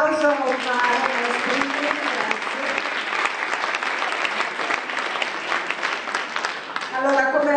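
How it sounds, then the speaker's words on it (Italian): An audience at an international poetry award ceremony in Italy applauds, sustained close clapping that runs through most of the stretch, with speech audible at the start and the end. "un applauso a Omaro"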